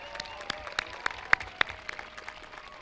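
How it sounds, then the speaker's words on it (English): A graduation audience gives scattered, fairly quiet applause, with a few distinct sharp claps standing out over a soft background of clapping in a large venue. "Please join in giving them all a round of applause."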